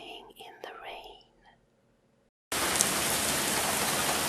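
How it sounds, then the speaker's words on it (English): Steady rain falling, a dense, loud, even patter that begins abruptly and continues without a break, following a short stretch of soft whispered speech and near silence. "Listen, can you hear the rain? It's raining."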